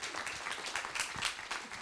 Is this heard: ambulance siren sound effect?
no